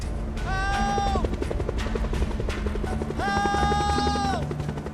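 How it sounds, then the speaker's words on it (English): Helicopter rotor blades chopping on Mount McKinley, a steady rapid thudding throughout, while a voice shouts loudly twice over it. "You can hear the chopper blades coming round and round the mountain"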